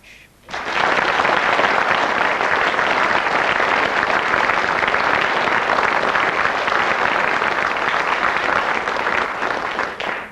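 Studio audience applause for the 1986 Brain of Britain radio quiz winner, a dense, steady wash of clapping that starts abruptly after a brief quiet moment and holds loud and even for about ten seconds, with no talk over it.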